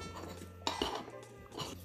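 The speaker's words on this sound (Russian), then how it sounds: "Тщательно перемешаем сухие ингредиенты." Sifted flour, sugar and salt are stirred together in a bowl for chocolate cherry brownies, with a few scattered clinks and scrapes of a utensil against the bowl and a quiet background hum.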